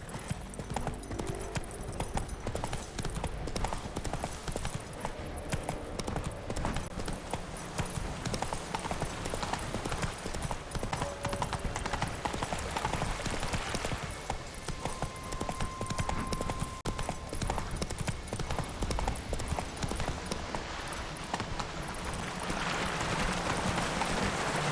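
Roach, a horse in The Witcher 3, clip-clops in a steady hoofbeat rhythm over a dense bed of game ambience and music.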